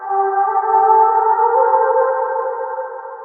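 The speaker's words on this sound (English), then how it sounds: "you can solo and listen to the reverb" A soloed reverb effect on a sustained sung vocal note, washy and echoing, loud and smooth, slowly tapering off.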